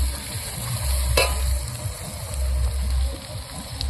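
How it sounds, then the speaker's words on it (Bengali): Ground spice paste hits fried onions in a hot pan for a goat mutton curry, giving a steady close sizzle and frying crackle with stirring scrapes throughout. "এখন আমি বাটা মশলাগুলো দিয়ে দেব।"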